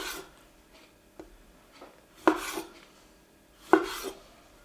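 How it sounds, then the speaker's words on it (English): Knife chopping tomatoes into small cubes on a board: a handful of soft, irregular taps with two sharper, louder cuts, close and quiet, without talk. "now with the tomatoes, we just chop them up as well into small little cubes"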